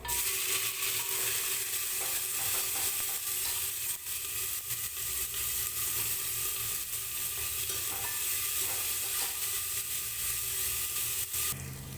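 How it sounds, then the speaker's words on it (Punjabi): Cumin, onions and green chilies fry in hot ghee for a bottle gourd sabzi, producing a loud, constant sizzle with stirring scrapes throughout and no voices. "ਘਿਓ ਆਪਣਾ ਗਰਮ ਹੋ ਗਿਆ ਜੀ ਹੁਣ ਆਪਾਂ ਇਹਦੇ ਚ ਪਾ ਦਿੰਦੇ ਜੀਰਾ ਤੇ ਨਾਲ ਹੀ ਆਪਾਂ ਪਾ ਦਾਂਗੇ ਜੀ ਪਿਆਜ਼ ਤੇ ਹਰੀਆਂ ਮਿਰਚਾਂ"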